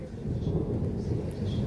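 Thunder rolls through a summer storm after a heatwave, a deep continuous rumble mixed with rain and wind. It is steady and fairly loud, with no talking.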